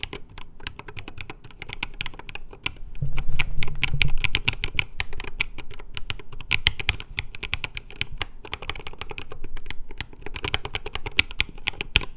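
Steady, rapid typing up close on a wireless split Corne v4 keyboard, clicky keystrokes in a continuous flurry with occasional louder taps, no voices.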